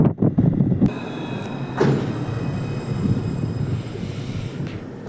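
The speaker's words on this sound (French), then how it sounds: "il y a une rame qui vient d'arriver à son dépôt, à son nouveau terminus, à l'arrêt" Montpellier TAM line 1 tram arriving at its terminus platform: loud, close rumble with a bright metallic squeal and a sustained electrical whine as it settles.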